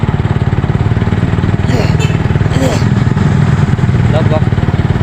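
A motorcycle engine drones steadily and loudly at close range as the bike rides through a night bazaar in Damak, with crowd voices and street noise under the constant mid-pitched hum.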